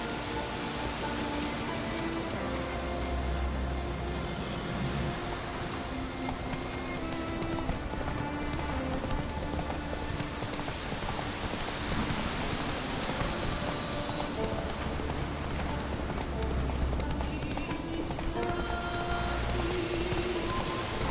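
Horse galloping in The Witcher video game, with steady clip-clop hoofbeats running throughout over a rain-like background wash and game ambience.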